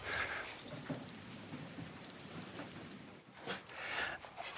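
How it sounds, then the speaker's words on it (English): Steady rain falling on a garden, a soft continuous patter of drops across the whole stretch with brief louder spatters near the end. "it's starting to rain"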